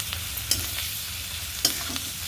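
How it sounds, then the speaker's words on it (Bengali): Fenugreek leaves frying in a pan, stirred with a few distinct scrapes over a steady low sizzle, close and moderately loud, with no talk. "এই দেখুন নেড়ে চেড়ে দিলাম"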